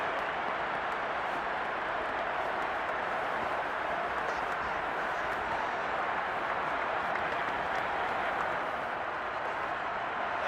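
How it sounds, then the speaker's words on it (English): Steady, dense crowd roar fills a domed stadium during an NFL game between the Seahawks and Saints in the Madden 22 video game, a continuous wash of noise with no breaks. "The crowd here in the Dome making things difficult."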